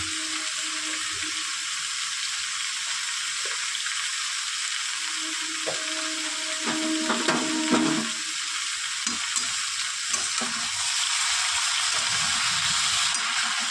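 Vegetables, turmeric and sugar frying for Bengali shukto in a pan, a steady broadband sizzle with intermittent scraping stirs and clinks throughout, close and fairly loud, with no talking.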